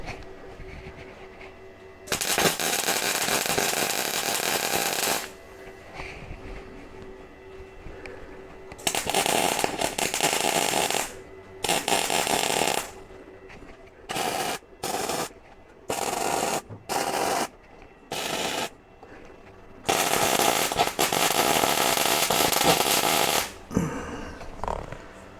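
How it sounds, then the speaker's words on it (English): Tack welding on heavy galvanized steel brackets for a tractor loader, with loud crackling bursts of arc that stop and start, some long and several short, separated by quiet pauses. "Alright, now we start just putting a tack on each one of these and then turn it over and do it properly."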